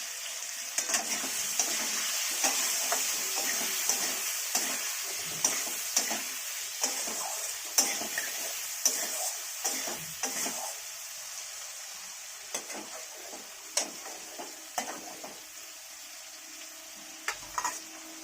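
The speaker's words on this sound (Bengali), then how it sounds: "একটু হলুদ গুঁড়ো দিয়ে দেবো, এবার নেড়ে দেবো।" Potatoes with salt and turmeric powder frying in a pan for a katla fish head curry, a quiet continuous sizzle broken by regular light ticks and scrapes from stirring, with no voices.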